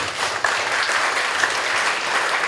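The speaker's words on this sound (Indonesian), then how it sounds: "Tepuk tangan buat Kang Fahmi" A leadership forum audience in Bandung applauds speaker Kang Fahmi, broad steady clapping from many people filling the room at a moderately loud, even level.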